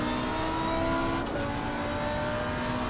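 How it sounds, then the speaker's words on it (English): A Lamborghini GT3 race car engine in a sim racing game drones at high, sustained revs, loud and steady with a slight pitch shift as the car holds speed. "a lot of appreciation for the sound of this Lamborghini engine"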